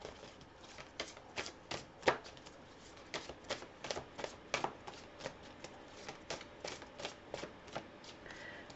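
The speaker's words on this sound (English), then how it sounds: "So we'll put those back in and we'll shuffle again." Tarot cards are shuffled again and again, a brisk series of riffling flutters and soft slaps close by, quiet and rhythmic with no voices.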